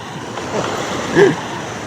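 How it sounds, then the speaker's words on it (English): Ocean surf breaking over a swimmer at a lagoon, a steady wash of water with one fuller surge of a breaker near the end, close and loud, with no speech. "Look at these waves. They're breaking right on me."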